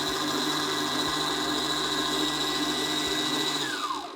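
A KitchenAid stand mixer beating sugar into eggs for homemade eggnog, its motor giving a steady, close whirring drone that runs throughout and dips slightly in pitch at the very end.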